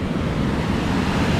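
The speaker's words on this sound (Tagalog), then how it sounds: "Hindi kalmado ang karagatan mga kapanalig. Malakas pa rin ang alon kaya hindi pwedeng sumugal." Rough sea waves surge in a loud, continuous roar, a broad rushing wash with some wind noise mixed in and no one speaking.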